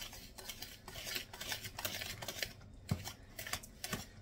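Ingredients being mixed with melted butter in a bowl for an apple cider recipe, with a utensil clinking and scraping against the bowl in quick, irregular strokes, close and fairly quiet, with no talking.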